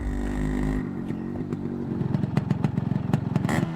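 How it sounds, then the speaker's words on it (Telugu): A 1976 Honda 1000cc motorcycle engine idles with a loud steady rumble, then breaks into a rapid, uneven chugging and revving clatter toward the end, heard alone without voices. "వెనక బైక్ సౌండ్ వస్తుంది"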